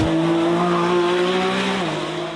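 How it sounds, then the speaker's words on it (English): Lamborghini Revuelto V12 plug-in hybrid on track at Vallelunga, a loud, steady engine drone with a strong sustained tone that dips slightly near the end, with no voices. "We are here in Vallelunga today to take you on board the Lamborghini Revuelto, the first V12 plug-in hybrid."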